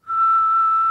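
A person whistles a single steady, clear, high note held for nearly a second, close and alone with no talk over it.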